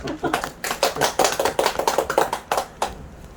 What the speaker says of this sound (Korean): 우리 박수 한번 쳐줘요